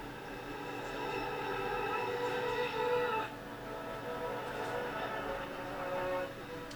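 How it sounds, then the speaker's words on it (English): Ambient pad of reversed vocals smeared by frozen reverb, a soft sustained wash of tones that swells and shifts, with a low rumble underneath, quiet and continuous. "reversed the vocals, put a reverb on it, and I freeze the track and reversed it again"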